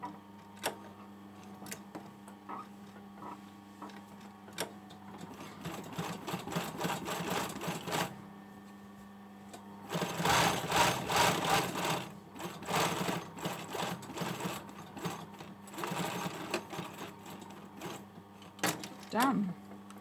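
A sewing machine topstitches the lower edge of a patch pocket onto a hoodie front, running in bursts of fast, steady stitching broken by short pauses and a few light clicks, close and clear with no voices.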